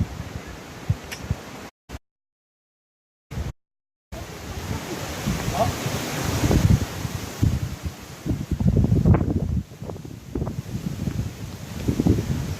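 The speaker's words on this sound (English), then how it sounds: "It's a lot windier in here than I thought it would be." Wind near Lulumahu Falls blows in rough, uneven gusts against the microphone, buffeting loudly at moments, with rustling and a short dropout early on.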